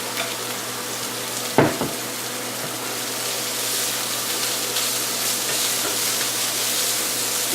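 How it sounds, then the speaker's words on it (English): Beef frying in a pan with potatoes, onions and garlic, a steady dense sizzle throughout with one brief clatter near the start, no voices. "the potatoes, onions, and garlic mix is cooking away"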